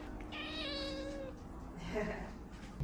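A cat meows in a few drawn-out calls at the vet, fairly faint, with people talking quietly around it.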